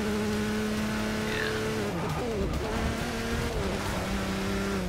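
A race car engine in Forza Motorsport 6 roars and revs continuously, pitch climbing and dropping through gear changes, with a brief tire squeal; it sounds much like a GT Corvette.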